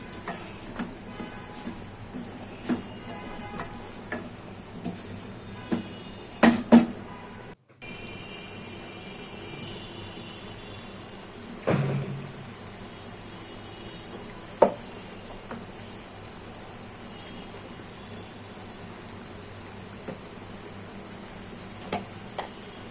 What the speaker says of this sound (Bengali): তো আমি ভালো করে কষিয়ে নিচ্ছি